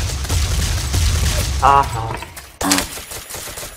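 Rapid bursts of gunfire in the voxel shooter game Ace of Spades ring out in loud clusters, with someone talking over and between the shots.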